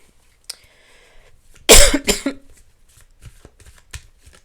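A couple of close, sharp coughs in quick succession, with soft tarot card shuffling and light handling noises before and after.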